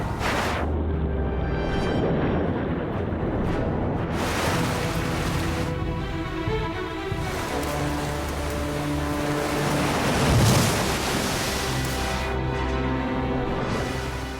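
A fast-flowing, freezing river torrent in Alaska's Chugach Mountains rushes loudly and continuously, a dense roar of churning water with surges throughout and no voices.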